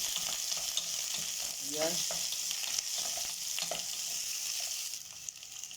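Onions sautéing in a pan for sinigang na red lapu-lapu, a steady close sizzle of frying with occasional stirring scrapes, while a voice speaks briefly over it.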